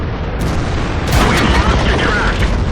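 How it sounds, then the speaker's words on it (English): Tank combat in World of Tanks clan battle on the Fjords map: a loud, dense run of explosions and booming shots, with sharp blasts breaking through a rumbling wash of battle noise. "Those explosions, that wasn't artillery"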